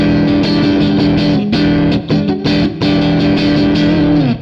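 Distorted electric guitar strums the Hendrix chord in E over and over, loud and close, with steady repeated attacks, brief choked gaps, and no talking.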